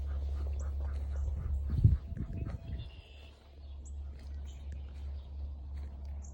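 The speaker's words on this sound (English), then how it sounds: "Good morning, ducks." Ducks at a homestead on a cold morning give a short burst of quacking near the middle, then fade to quiet background calls over a low steady hum.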